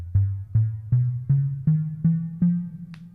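A gridofpoints script plays F1 and the leading whole tone scale: seven evenly spaced plucked synth notes climb slowly in pitch, each ringing briefly before the next, with a faint click at the very end.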